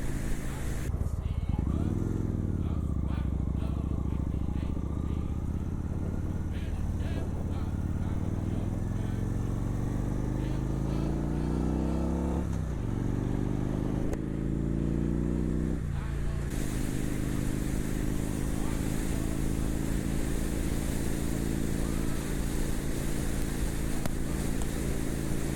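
A motorcycle engine revs up through several gears, pitch rising and dropping with each shift, over loud steady wind rush while riding.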